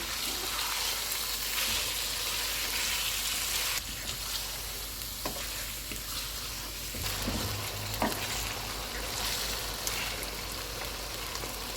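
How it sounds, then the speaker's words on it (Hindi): Ground turmeric, cumin, coriander and red chili powders fry with green chilies for kaleji masala, a loud continuous sizzle and crackle with stirring scrapes throughout, no talk. "इनको 8 से 10 मिनट तक भूनेंगे"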